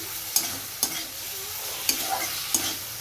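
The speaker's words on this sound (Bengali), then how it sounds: "এখানে কচুর তরকারিটা হচ্ছে" Taro curry sizzles gently in a pan while a spoon scrapes and taps against it a few times, close and fairly quiet.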